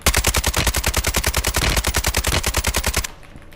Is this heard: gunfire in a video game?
yes